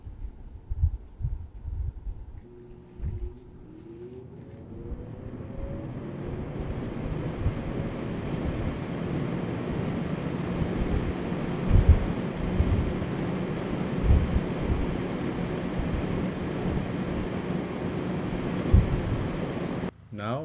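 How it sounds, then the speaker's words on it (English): Stock cooling fan running inside a SysRack 12U network rack, a steady broadband whooshing hum that spins up and holds continuously, fairly close. "First, the stock fan."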